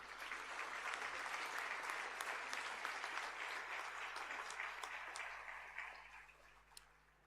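School prizegiving audience applauding senior award winners, a steady crackle of many hands clapping in a large hall that gradually thins and tapers off, with a low constant hum beneath.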